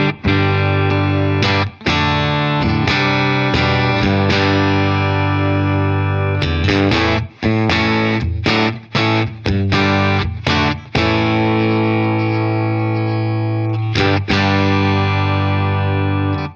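Distorted electric guitar played through a Two Notes Revolt tube preamp pedal: loud, dense crunchy chords and riffs with short choppy stops, continuous and up close, no voices.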